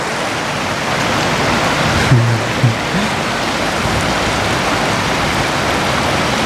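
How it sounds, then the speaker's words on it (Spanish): A river running steadily in a mountain valley along a 4x4 track, a constant broad rushing wash with no pauses and a faint low thump partway through. "Está bueno, está harto más bajo ahora el río."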